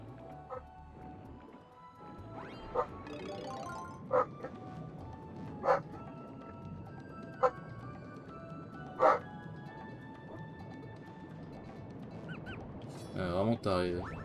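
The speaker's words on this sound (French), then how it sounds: "Ah, pourquoi qu'elle aboie encore?" A dog barks and whimpers indoors, giving a handful of sharp, spaced yips over a steady low background, with faint voices underneath.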